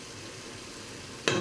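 Veal paupiettes brown in a dry pan with no oil, making a faint, soft sizzle that gives way to a short, louder stirring scrape at the very end.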